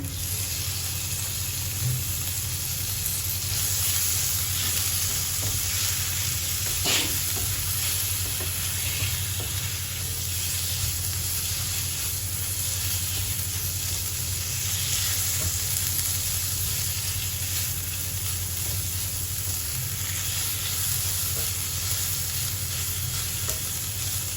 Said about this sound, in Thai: นี่จะผัดพริกแกงกับหมูให้เขาหอมนะคะ